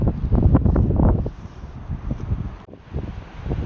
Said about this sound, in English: Let's head back down so we can get out of this wind.